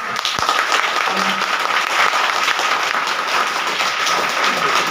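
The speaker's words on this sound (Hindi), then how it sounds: "अरे भाई खूब जोर से ताली बजाओ" A satsang gathering at an ashram claps loudly and continuously, a dense wash of many hands applauding together without a break.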